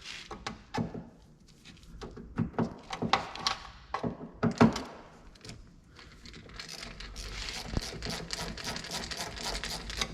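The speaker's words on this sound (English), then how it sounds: "This will show a Torx 30 you need to unscrew." A Torx 30 screw being worked loose on a Toyota Yaris door handle: close, irregular clicks, knocks and scraping against the door, busy and uneven throughout with no talk.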